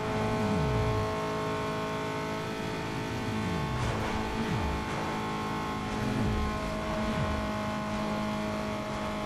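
A VW Up! TSI racing in Need for Speed: Underground 2, its engine droning steadily and climbing through repeated revs with falling pitch at each gear change. The sound is fairly quiet and constant, with no talk.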